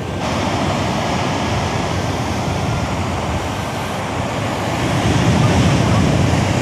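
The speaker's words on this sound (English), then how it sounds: "those are big waves" Big ocean waves crash continuously on the shore along a palm-lined seafront near a city peninsula, a loud, broad surging roar with wind noise, one heavier surge building near the end.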